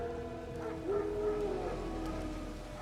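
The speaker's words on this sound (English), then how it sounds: "No. Wild dogs." A distant, drawn-out howl of wild dogs rises and sustains briefly within the dark ambience of The Witcher 3's White Orchard, faint and alone with no speech.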